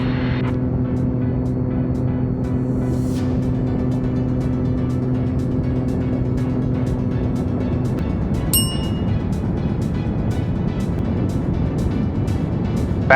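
A Lake Amphibian seaplane's engine drones loud and steady under power on landing approach, with a constant tonal hum that gives way to a rougher broadband roar partway through, continuous and close inside the cabin.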